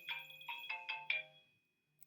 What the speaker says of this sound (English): got a phone call coming in